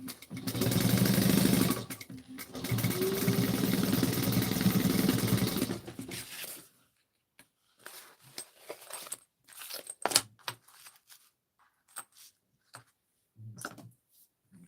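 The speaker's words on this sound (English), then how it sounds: "All right, and I'm going to sew down the sides. Back stitching really well at the beginning and end." A sewing machine stitches down the sides of a piece with two loud, steady bursts of motor whir over the first six seconds, followed by scattered clicks, light knocks and handling noises at close range.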